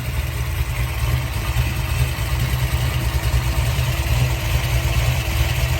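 A 1972 Chevrolet Chevelle's 496 V8 with AFR aluminum headers and a four-barrel carburetor idles with a steady, deep, lumpy rumble, close and continuous without talk.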